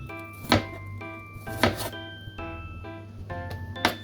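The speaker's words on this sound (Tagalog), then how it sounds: "Hiwain natin lahat ito." A knife chops cucumber for a salad on a board in a few distinct thuds at an unhurried pace, close and clear above a steady low hum, with a little talk in the background.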